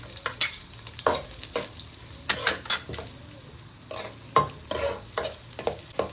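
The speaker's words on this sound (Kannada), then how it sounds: "ಎಣ್ಣೆಗೆ ಕಟ್ ಮಾಡಿ ಇಟ್ಟಿರುವಂಥ ಈರುಳ್ಳಿನ ಹಾಕೋತಾ ಇದ್ದೀನಿ" Chopped onions frying in hot oil in a pan, with a steady sizzle broken by repeated scraping stirs and spatula clinks, close and moderately loud.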